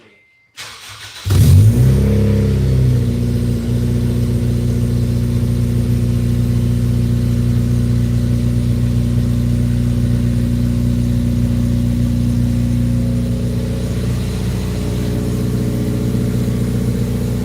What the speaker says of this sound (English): I'm going to go ahead and cold start this, so let's get a cold start